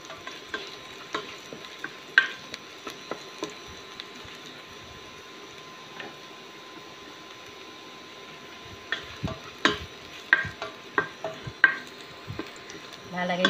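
Food frying in a pan for a budget tuna carbonara as it turns golden brown, a steady low sizzle broken by intermittent scraping and stirring clatter, fairly close but quiet.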